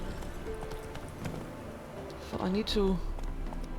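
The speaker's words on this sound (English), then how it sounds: "So let's call the horse and I'll be on my way again." A horse in The Witcher 3 clip-clops steadily across the ground and gives a short whinny near the end, while someone talks over the hoofbeats.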